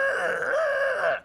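A man vocally imitates a car alarm going off, giving a steady, sustained wailing tone with a slight warble that holds loud for about a second before cutting off.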